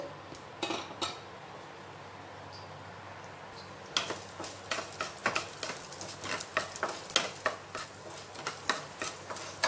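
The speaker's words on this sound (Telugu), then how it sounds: "వేసేసుకొని వీటిని మీడియం ఫ్లేమ్లో దోరగా ఫ్రై చేసుకోవాలి" Ingredients fry in a teaspoon of hot oil in a pan over medium flame, a quiet sizzle with a few clinks at first, then a run of regular scraping and tapping strokes from a spoon against the pan.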